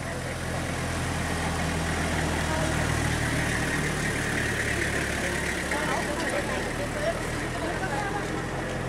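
A vehicle engine idles close by near Doi Inthanon National Park in Chiang Mai, Thailand, a steady loud low rumble throughout, with people talking over it.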